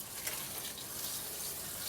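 Water showering steadily onto soil in a freshly seeded vegetable planter at an allotment, a continuous even hiss and patter, close and moderately loud without pause.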